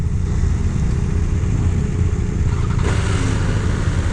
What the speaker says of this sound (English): I don't know if you can hear that, but this thing revs super fast.